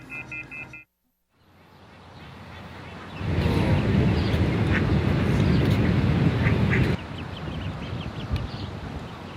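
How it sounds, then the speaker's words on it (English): A group of ducks quacks steadily over a dense, noisy outdoor wash of sound, rising suddenly after a brief silence and continuing for several seconds without talk. "go get me one of those ducks over there"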